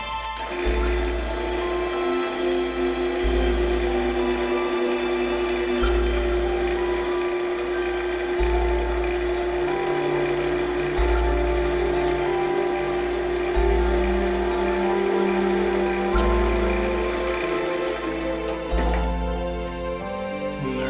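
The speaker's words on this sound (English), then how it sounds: "turn the lathe on as fast as you can turn it, and then the friction will melt the wax" A wood lathe spins at high speed while wax melts from friction on a turned wooden honey dipper, giving a loud, steady machine hum with a pulsing rhythm throughout, no voices.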